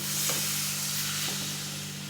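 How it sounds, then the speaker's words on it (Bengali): Steady sizzle of hot oil and spices in a pan as water goes in for a North Bengal fish and potato ghati, a broad hiss that holds nearly level with a couple of faint stirring scrapes and no voices. "এবার এর মধ্যে জল দিয়ে দিচ্ছি"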